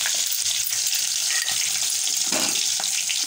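Green chillies frying in hot oil in a home kitchen, with a steady close hiss and crackle of sizzling throughout and a few brief clinks of stirring.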